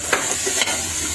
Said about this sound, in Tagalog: Inuna ko lang ang paggisa nitong luya, tapos isinunod ko dito ang bawang at sibuyas.